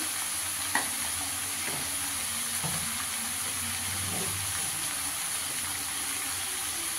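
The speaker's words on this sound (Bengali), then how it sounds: "একটু ভালো করে ভেজে নেব" Amudi fish fries in oil in a pan with a steady, dense sizzle and faint scraping stirs, close and even throughout with no voices.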